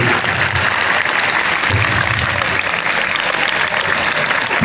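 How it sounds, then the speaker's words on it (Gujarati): A large crowd applauding loudly and continuously at a high school's 114th foundation day celebration, dense clapping filling the whole stretch with no pauses. "આપણે જોરદાર તાળીઓ સાથે આ તમામ મહેમાનોનું હૃદયપૂર્વક સ્વાગત કરીશું તાળીઓનો ગગડાટ અટકવો ન જોઈએ"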